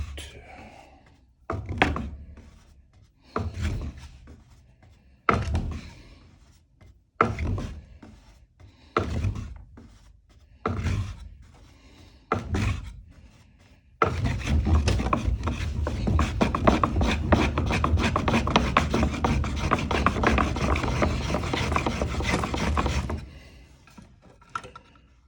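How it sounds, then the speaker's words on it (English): Wood rubs in fire-roll friction, starting with about ten separate rolling strokes as thuds with gaps, then a long continuous fast back-and-forth rasping. "then I'm going to roll back and forth as fast as I can."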